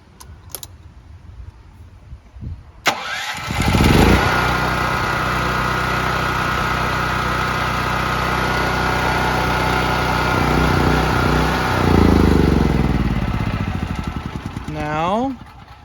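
A Firman T07573 tri-fuel portable generator gets a few clicks and a pull, then its engine catches and runs at a loud steady drone, slowing toward the end, with a voice talking over it.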